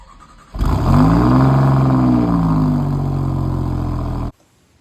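An Alfa Romeo Giulia Quadrifoglio with modified valves and air filter fires up loudly, then holds a strong rising rev that swells and eases before cutting off abruptly, heard up close.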